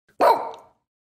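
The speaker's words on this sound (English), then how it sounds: "Good dog." A dog gives one sharp, loud bark nearby that trails off quickly into silence.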